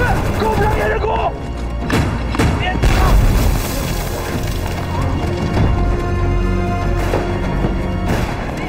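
Heavy gunfire and booming blasts fill a kung fu movie battle scene, a dense continuous barrage of loud thuds and crashes with shouting voices mixed in throughout.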